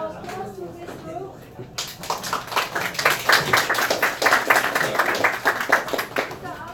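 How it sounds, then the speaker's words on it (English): After a moment of a voice speaking, a classroom audience breaks into steady clapping for a student robotics group, moderately loud and continuing for several seconds. "let's give our applause to this group"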